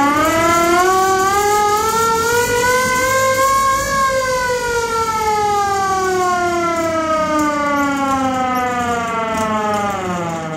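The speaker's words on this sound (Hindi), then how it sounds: "ये हैंड ऑपरेटेड सायरन है" A loud hand-operated industrial siren with a metal body wails continuously, its pitch rising to a peak then slowly falling as it winds down, with strong harmonic overtones and no voices.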